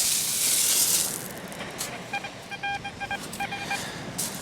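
Several short beeping tones from an XP Deus 2 metal detector pulse in quick groups on a beach, beneath steady hissy outdoor noise, following a louder rushing swish at the start; a target reading of 88 for a £1 coin.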